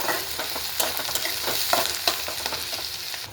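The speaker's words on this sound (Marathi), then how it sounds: "आता आपण कांदा आणि कढीपत्ता टाकून घेऊया. आता आपण त्याला एकदा तेलामध्ये हे करून घेऊया" Chopped onion and curry leaves sizzle in hot oil in a pan, with a crackling fry and irregular scraping strokes of stirring at close range, moderately loud, with no voices.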